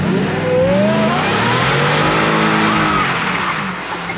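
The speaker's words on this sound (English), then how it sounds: "Oh, it wasn't a burnout. It was a donut." A Ford Terminator Mustang spins a donut, its engine roaring loud and steady under a wavering, high tire squeal that runs the whole time, close by, with no voices.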